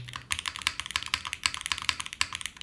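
Quick, crisp keystrokes on a custom Forever65 keyboard with a carbon fiber plate, a steady close-up typing rhythm heard alone with no talk.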